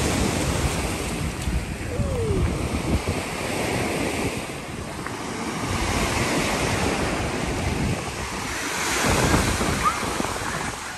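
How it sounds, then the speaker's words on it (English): Surf rolls and washes continuously onto a sandy municipal beach at Stavros, Greece, while wind buffets the microphone, a loud, steady roar of waves close by. "It's a municipal beach."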